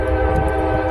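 A loud, droning train rumbles close by, with a sustained horn-like tone over heavy low-end noise.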